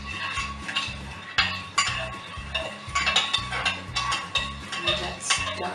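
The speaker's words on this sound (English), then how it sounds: "So you have to mix it well until it's all the salt is all dissolved" Salt stirred into warm liquid dish soap until dissolved, a utensil repeatedly clinking and scraping against a container in an irregular rhythm, close and clear with no speech.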